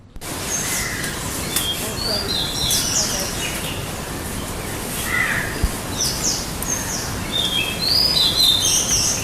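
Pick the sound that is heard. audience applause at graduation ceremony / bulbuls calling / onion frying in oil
bulbuls calling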